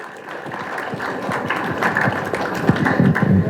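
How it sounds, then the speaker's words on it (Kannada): An audience at a Kannada movie trailer launch event claps in dense, sustained applause with many overlapping hand claps, close and fairly loud, building slightly toward the end. "ಚಪ್ಪಾಳೆ ಚಪ್ಪಾಳೆ"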